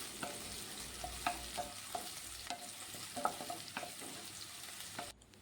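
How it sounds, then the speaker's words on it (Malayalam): Shallots fry in oil in a pan, a continuous sizzle with periodic scraping as they are stirred, close and steady until the sound cuts off at the end. "അപ്പോൾ ഇതും കൂടെ ഒന്ന് വറുത്തെടുക്കാം ഇതേപോലെ തന്നെ."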